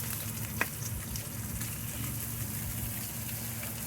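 Bacon fries in a pan with a steady, quiet sizzle that stays even throughout, soft and close, with no voices over it.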